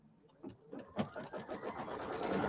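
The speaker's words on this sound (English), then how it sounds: "I'm going to stitch out that same little placement area down here" An embroidery sewing machine stitches out a small placement area for a bench pillow, its needle chattering in a fast, steady, close rhythm that builds to a continuous mechanical whir.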